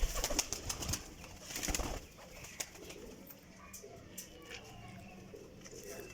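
Parwazi pigeons coo softly amid a busy outdoor loft, with sharp clicks, flutters and background voices; the cooing is faint and intermittent against the noise.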